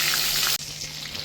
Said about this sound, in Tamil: மீன் வந்து நல்லா ஃப்ரை ஆயிடுச்சு